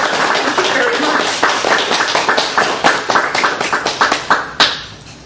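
A small audience at a poetry reading in the Tree Reading Series claps, sharp distinct handclaps that start steady and then thin into scattered final claps, with voices talking over them.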